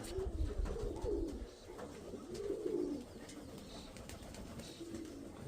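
Soft, low pigeon coos come in a few rounded bursts, fairly close, over a quiet rustling background.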